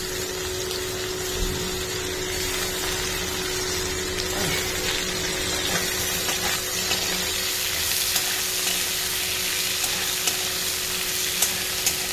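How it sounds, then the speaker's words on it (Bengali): Chara fish curry with potato and mustard-chilli paste bubbling and sizzling steadily in a pan, a continuous close hiss with faint stirring clinks and no talk. "এই যে আলু দিয়ে, চারা মাছ দিয়ে, সর্ষে বাটা দিয়ে, লঙ্কা সর্ষে বাটা দিয়ে চারা মাছের ঝোল করছি।"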